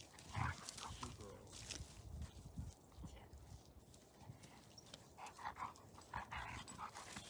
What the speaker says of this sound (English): Puppy Charlie is still learning the rules to being off leash